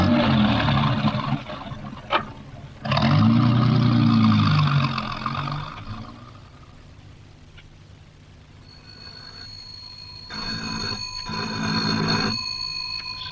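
A car engine cranks and starts, then idles and pulls away, staged as a sound effect in an old radio drama, heard loud and close with no talk over it.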